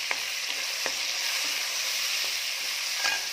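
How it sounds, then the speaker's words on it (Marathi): Tomatoes sautéing in a pan with browned onion for a spicy Malvani-style chicken curry: a steady, close hiss of frying with a few soft stirring scrapes and clicks, no voices. "टोमॅटो देखील छान परतून घेऊया."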